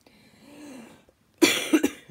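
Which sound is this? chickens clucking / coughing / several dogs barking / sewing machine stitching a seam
coughing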